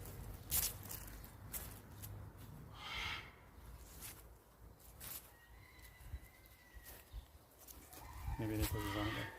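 Chickens in an outdoor bird garden cluck and call intermittently amid mixed bird sounds and background voices, with a louder burst of calls near the end.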